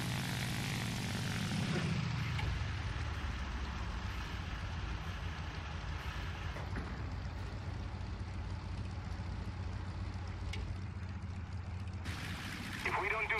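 A Ki-43 II propeller fighter's engine in War Thunder, a steady droning hum that runs continuously, a roar at first that eases after a couple of seconds, with a voice talking over it.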